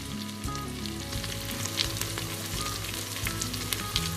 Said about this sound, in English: Now what will happen with this yogurt as it fries, it will actually curdle, it'll separate.